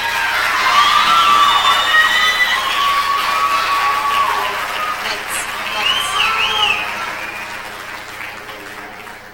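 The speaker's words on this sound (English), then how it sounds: "Let's excuse them with a big round of applause." An audience at the 1989 Tularosa Rose Festival pageant cheers, whoops and applauds after the sportswear competition, with high shouts and crowd noise rising and falling throughout.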